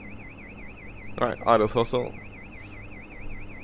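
A continuous warbling cockpit warning beep sounds in a Dash 8 Q400 flight simulator, steady and repeating throughout, briefly masked by someone speaking in the middle.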